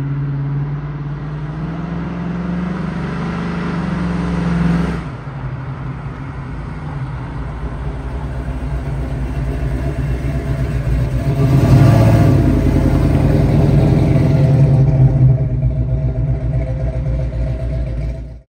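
A black 1966 Ford Mustang Fastback conversion car runs with a steady mid-pitched engine rumble, swelling in a rev partway through, close and loud with no talking.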